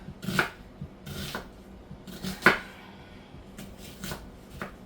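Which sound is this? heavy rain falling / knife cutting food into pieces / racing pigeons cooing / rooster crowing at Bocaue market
knife cutting food into pieces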